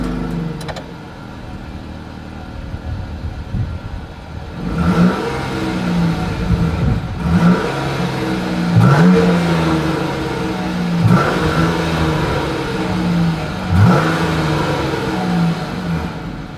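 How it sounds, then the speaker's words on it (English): Exhaust of a 2021 Jeep Grand Cherokee L, idling at first, then revved repeatedly in several rising bursts that fall back between each, loud and close with no talking. "here is that exhaust clip."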